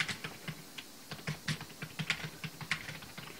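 Typing on a computer keyboard, a quiet, close, irregular patter of individual key clicks with brief pauses, alone with no talk.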